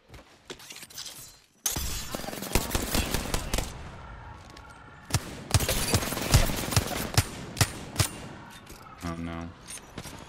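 Gunfire in the Apex Legends shooter game, bursts of rapid automatic shots and sharp cracks over several seconds, close and loud, with a brief shattering burst near the end.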